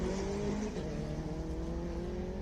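A Honda VTEC car races up a hillclimb course with a steady, loud engine drone that holds its pitch throughout, close by and with no voices over it.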